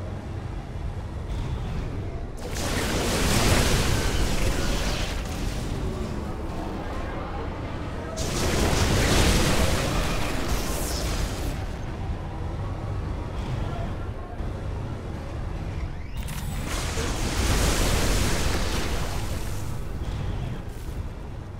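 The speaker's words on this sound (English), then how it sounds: "Shooting down 2 of the enemy's aircraft" Aircraft being shot down in the strategy game Civilization: Beyond Earth, heard as three long, loud roaring blasts spaced several seconds apart, each swelling and fading over a low rumbling game background.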